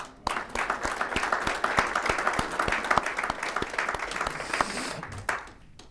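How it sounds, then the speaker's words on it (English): A hall of fame ceremony audience applauds for Coach Hill, a dense burst of many hands clapping that starts abruptly, holds strong for about five seconds, then fades out. "but I'm still going to applaud him"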